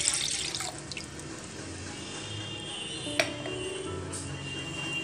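Water from a glass pours into a cooking pot for a momos red chutney, a short splashing trickle close by with a couple of faint clinks and no talking.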